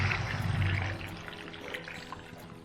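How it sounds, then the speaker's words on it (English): Cold water being poured into a cooking pot for a snail and pork curry, a close, gushing splash that is loudest at first and then eases into a softer trickle. "Let's put cold water."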